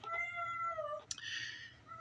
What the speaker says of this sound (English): my cat's not a big fan of Owen.